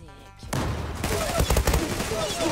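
The Fateh gun in the video game Zula fires in a quick burst of several rapid shots after a brief quieter lead-in, loud and punchy with some game noise around it.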